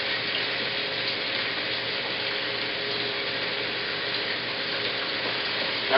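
Soy sauce sizzling in a hot pan, a loud, steady hiss of frying that holds evenly from start to finish with no pauses.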